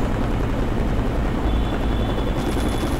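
A helicopter flies steadily in a buggy video game, its dense rotor and engine rumble droning loud and unbroken, with no voices.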